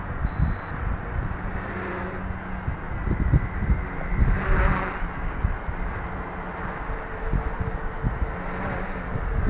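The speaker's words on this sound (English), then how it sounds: "Wow, it's windy." Strong wind buffets the microphone in heavy, rumbling gusts that swell and ease over several seconds, loud and constant with no talking, at a baseball field.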